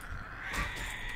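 A bird caws in World of Warcraft TBC Classic, a short harsh cry heard close and fairly loud over a steady game background hum, with no speech.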